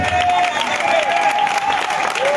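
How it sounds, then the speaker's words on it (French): Loud crowd applause and cheering for the mayor of Adjamé at a political rally, continuous and close, with long whistle-like tones running over the clapping. "Applaudissez le maire d'Adjamé."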